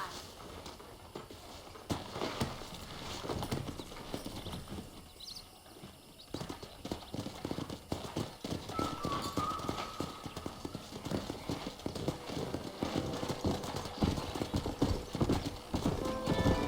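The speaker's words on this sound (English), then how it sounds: "there's a pack of wild horses nearby." Hooves clatter steadily as a pack of wild horses gallops in the video game Red Dead Redemption, a dense, continuous clip-clop that grows louder over time, with occasional faint whinnies in the mix.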